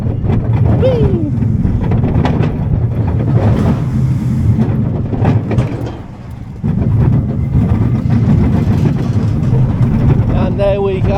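Ghostly bobsleigh ride at Paultons Park running with a steady low rumble and rushing wind noise close to the microphone, dipping briefly midway before surging again, with a voice heard over it.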